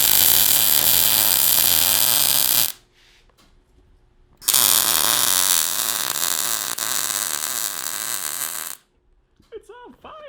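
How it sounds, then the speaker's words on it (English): Loud, continuous hiss and crackle of welding on a mini bike frame, running in two long bursts separated by a brief pause, close up and steady. "Might as well go ahead and fully weld it."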